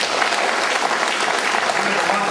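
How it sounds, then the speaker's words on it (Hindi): Dense, loud audience applause after a stage drama performance by a theatre group, continuous clapping from a large crowd filling the hall throughout. "एक बार जोरदार ताली बजाइए।"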